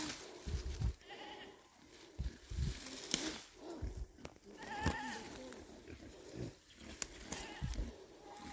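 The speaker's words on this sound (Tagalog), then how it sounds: "Grabe kabuyag ng mga baboy ni Auntie Milit diri oh" Pigs on a provincial farm squeal and grunt in repeated bursts, some close and loud, others further off, with no speech.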